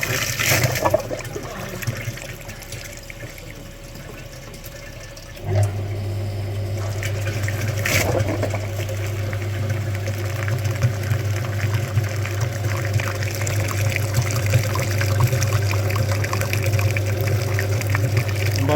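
Coolant flushing machine pumping liquid through the cooling system of a Skoda Octavia A7, switching on partway with a steady low motor hum over continuous sloshing and gurgling water flow.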